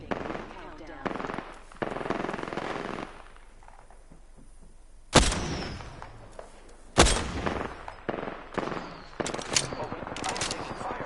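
Bursts of automatic gunfire from Apex Legends, with sharp loud shots around the middle and scattered rapid firing later, mixed with game sounds and a voice speaking in places.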